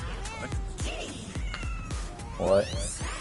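Cat meows from the kitty song in the video game Fortnite, repeated mewing cries in a rhythmic sung pattern over a thumping beat, with a louder drawn-out meow near the end and a voice briefly talking alongside.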